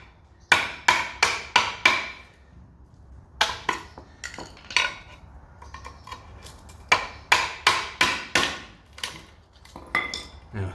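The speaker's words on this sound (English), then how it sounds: "Then just go from about here, hammer it again." A hammer striking a VW Passat B6 rear torsion arm bush to drive it out, sharp metallic blows in quick bursts of four or five, separated by short pauses.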